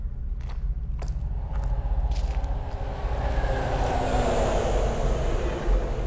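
Train passing in the video game Call of Duty: Advanced Warfare, a rumbling roar that builds steadily and grows louder toward the end, with a few sharp clanks early on.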